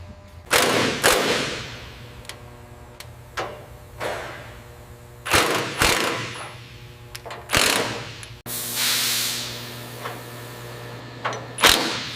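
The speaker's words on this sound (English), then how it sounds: "All right, I've got the impact wrench ready." An impact wrench works on the steering assembly of an old airport tug, giving irregular sharp rattling bursts and clanks of varying length against a faint steady hum, close by, with no talk.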